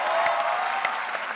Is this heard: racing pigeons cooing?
no